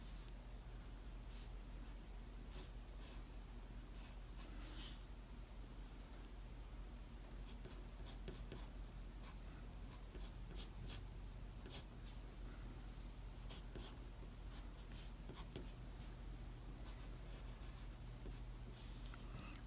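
Pencil sketches neck muscles on paper, giving soft, steady scratching strokes with quick repeated hatching flicks, faint and close over a low background hum.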